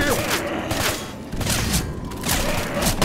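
Pipe bomb tossed and detonating amid a chaotic Left 4 Dead 2 firefight, with dense, continuous gunfire and bursts of noise crowding the whole stretch, loud and busy, plus faint voices mixed in.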